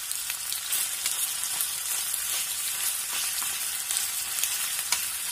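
Green chillies and ginger garlic paste fry in a pan with a constant bright sizzle and occasional crackles, steady and close, with no talk.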